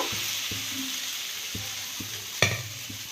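Multigrain dosa batter fries in oil on a hot pan with a steady sizzle, broken by several soft spatula taps and one louder clack.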